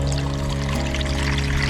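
Water pours steadily from a public drinking fountain on a historic street in old Tashkent, Uzbekistan, a short continuous splash heard alone against outdoor ambience.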